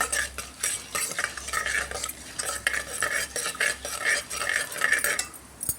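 Pepper and cumin being stirred in a cooking pan for pongal, a utensil scraping steadily in quick repeated strokes over a soft sizzle, close and alone.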